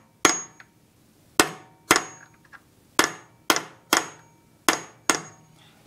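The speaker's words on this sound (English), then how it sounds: "I'm going to hit that with the center punch." A hammer strikes a center punch on a 3.5 hp go-kart lawn mower engine, giving eight loud metallic clangs spaced about a second apart, each ringing briefly, with no talk.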